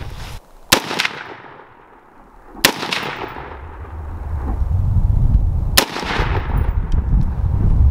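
Three sharp 5.56 rifle shots with 55 grain ammunition crack out at an outdoor range, spaced about two to three seconds apart, each loud and close with a short ringing tail.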